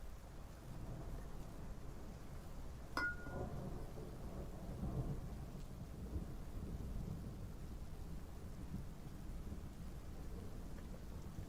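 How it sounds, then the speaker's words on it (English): Steady rain hisses through a stormy night in the dinosaur survival game Path of Titans, with a sharp distant thunder crack near the start and a low rumble rolling under the downpour. "I'm hearing thunder and lightning."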